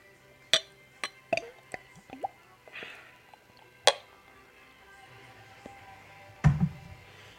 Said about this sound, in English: Ooh, a little foamy. Opening the bottle.